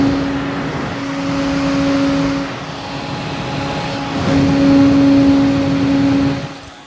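A Jiushark JF800 Diamond CPU cooler fan running at full 100% speed, a steady close whir with a constant tonal hum that swells slightly in loudness and persists alone for the whole stretch.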